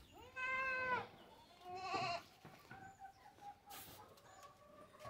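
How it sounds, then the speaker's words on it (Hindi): Totapari goats bleating on a goat farm with open and covered pens, several loud drawn-out bleats close by followed by quieter calls and faint clucking of fowl in the background. "ये तोता पारी है। तोता पारी का बकरा है?"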